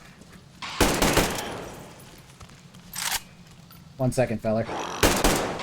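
Gunfire from a weapon in the video game Metro Exodus, heard as several loud bursts of shots spread across the moment, with a voice talking between them.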